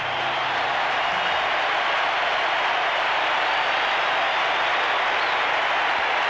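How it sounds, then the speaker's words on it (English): A large stadium crowd at the MCG applauds during a 1987 VFL semi-final between Melbourne and Sydney as a player leaves the ground. The sound is a continuous, even roar of distant clapping that holds steady throughout. "The applause from the crowd as Robert Flower is taken off the ground"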